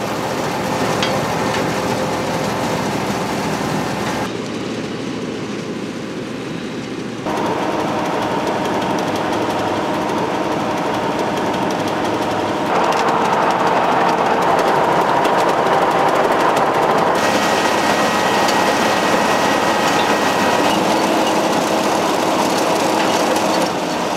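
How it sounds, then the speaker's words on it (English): Matrot MT05F six-row sugar beet harvester working, a loud continuous mechanical rattle and engine drone with clattering elevator and turbine noise, steady throughout and slightly louder in the second half. "The last turbine drops beet onto the discharge elevator."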